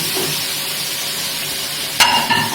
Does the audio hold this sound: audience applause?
no